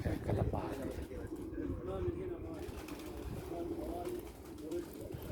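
Pet pigeons coo softly in a cluster, their low burbling calls faint under ongoing background noise and nearby talk.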